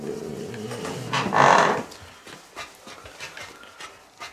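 A dog in The Last of Us 2 pants briefly in a short burst of breathy huffs, then quieter intermittent sounds follow.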